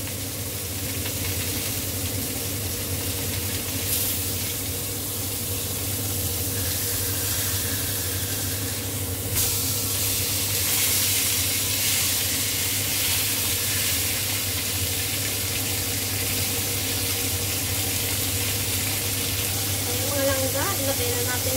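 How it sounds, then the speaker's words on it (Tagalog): A dish simmers in a pan on a home stove with a steady, dense sizzle and hiss of bubbling liquid. The sound runs continuously and close, with a few faint clinks near the end. "Pakuluan pa ng konti."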